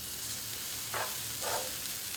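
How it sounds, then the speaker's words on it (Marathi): An onion paratha fries in butter on a hot tawa, giving a soft, steady sizzle with two brief louder hisses as the flatbread is pressed or turned. "आणि त्यावर पराठा छान असा भाजून घेऊया दोन्ही साइडने"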